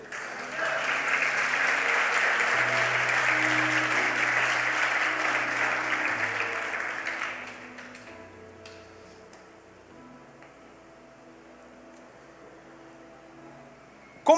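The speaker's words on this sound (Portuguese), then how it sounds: "Dê uma salva de palmas." A church congregation at a conference applauds loudly and steadily for about seven seconds before the clapping fades out. Soft sustained music continues underneath and carries on alone afterward.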